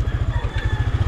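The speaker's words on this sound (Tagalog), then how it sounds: "Grabe, ang lakas ng motor na to." A motorcycle engine runs close and loud, its low exhaust thumping in a fast, even rhythm throughout the short stretch with no talking.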